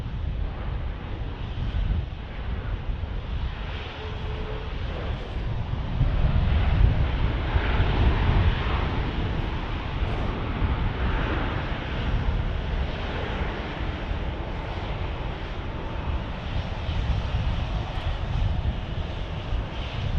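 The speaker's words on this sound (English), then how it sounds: "Got a max landing right here." A Boeing 737 MAX airliner landing at Dallas Love Field, a steady broadband engine roar that swells slightly in the middle and holds on, with some wind buffeting the microphone throughout.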